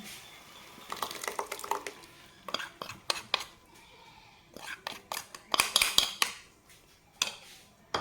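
A utensil scraping and clinking against a pan while a spiced curd mix is stirred in, for dahi bhindi (okra in yogurt), in sharp irregular clatters close by, with quiet background hiss between strokes.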